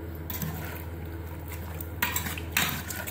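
A metal spoon scrapes and clinks against a pressure cooker pot of mutton tripe with ginger and garlic in a continuous stirring motion, with a couple of louder knocks near the end.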